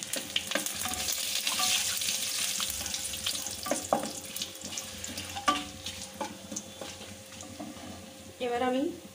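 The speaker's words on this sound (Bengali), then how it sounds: "ভাজা তেলটার মধ্যে আমি ফোড়নটা দিয়ে দিচ্ছি।" Dry red chilli, bay leaf and whole cumin crackle in hot frying oil while tempering for a katla fish curry, a steady close sizzle with pops and stirring scrapes, and a brief voice near the end.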